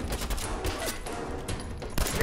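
Rapid gunfire in a video game shootout, a dense run of overlapping shots and bursts that fills the short stretch at steady loudness with no talking.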